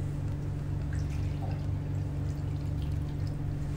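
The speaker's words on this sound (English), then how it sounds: "Okay, now we can inject the water." Water pours steadily into the tank of a 3-in-1 6D lipolaser cold laser slimming machine, a continuous close trickle over a constant low electrical hum, with no talking.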